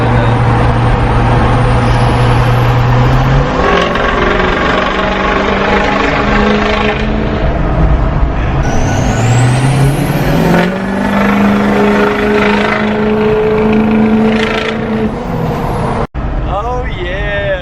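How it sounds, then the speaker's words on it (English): A tuned, emissions-deleted 2020 Duramax diesel pickup's engine drones loudly while driving, pitch climbing through gear changes, echoing off surroundings, with someone talking over the steady rumble. "Listen to how this truck echoes off of everything."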